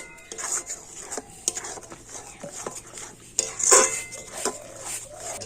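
Coconut and sugar being stirred in a pan for coconut naru, with irregular scraping strokes and clinks of a utensil against metal, close by, plus a brief louder clatter midway.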